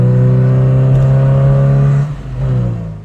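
A car engine drones and pulls hard as it accelerates, loud and close, with a brief dip near the end before building again.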